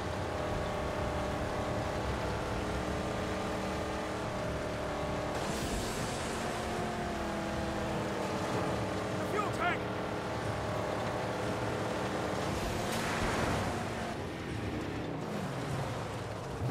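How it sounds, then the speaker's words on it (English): A steady, droning car engine in the Mad Max video game on PS4 hums throughout, with shifting revs and faint mechanical noise, under occasional quiet talk. "listen to the sound of that engine though"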